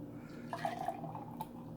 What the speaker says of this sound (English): we'll start pouring it into our glass